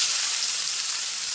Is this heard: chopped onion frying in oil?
yes